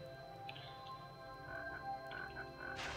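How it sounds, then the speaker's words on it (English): Frog croaking in Spyro 2: Gateway to Glimmer on PS1, several short croaks spread over a few seconds, fairly faint against a steady game music background. "Oh, there's a frog."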